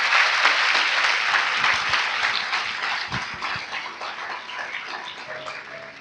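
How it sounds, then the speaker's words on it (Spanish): A church congregation applauds loudly in sustained, dense clapping that fills the space, steady and close, easing slightly toward the end. "Dele un aplauso fuerte, por favor."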